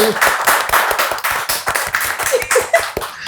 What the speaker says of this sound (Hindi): ज़ोरदार तालियां हो जाए for generations of actors Raj Hussain and अलमा Hussain